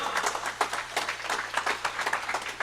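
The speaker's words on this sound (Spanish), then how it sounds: "Denle un fuerte aplauso al Señor." A church congregation claps together in a strong round of applause, many overlapping hand claps forming a steady, fairly loud rhythmic patter with no talking.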